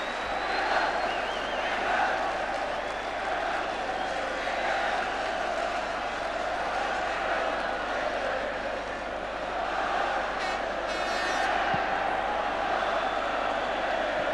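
A big football crowd at Wembley Stadium during England against Northern Ireland roars steadily throughout, a dense, continuous wash of cheering and chatter with a few sharper whistles and shouts rising near the end.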